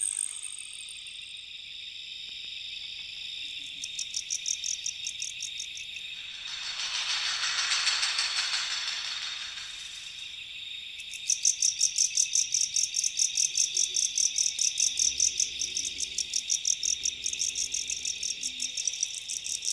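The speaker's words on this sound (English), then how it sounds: "The persistent sound of the wings of the crickets claims every inch of land." Dense, rapid cricket chirping fills the clip, a steady high trill that swells into a louder pulsing chorus partway through, with no voices.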